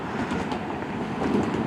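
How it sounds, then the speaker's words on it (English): A westbound CN freight train passing in Port Huron, Michigan, after coming out of a tunnel: a steady, fairly loud broadband rumble with no voices, swelling slightly toward the end. "CN westbound train, Port Huron, Michigan."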